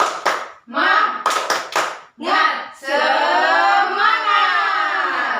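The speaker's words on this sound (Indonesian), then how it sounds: "Oke, tepuk semangat." A lower-grade elementary class does a rhythmic spirit clap, tepuk semangat: a burst of sharp patterned claps followed by children's voices chanting loudly together.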